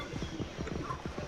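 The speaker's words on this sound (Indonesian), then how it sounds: "kita pakai kuda tapi kudanya bisa ngedrift teman-teman" Horse hooves clip-clopping in the Knightfall: A Daring Journey video game, a quick, steady run of soft thuds close by, repeating evenly across the short stretch.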